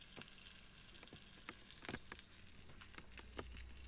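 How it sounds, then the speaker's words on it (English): Spicy pork burgers fry in a pan with a soft, steady sizzle punctuated by scattered pops and crackles, quiet and close with no voices. "This is what's frying."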